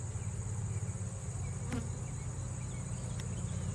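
Bees buzz steadily inside an open beehive during a hive inspection, a close, continuous drone with no talking.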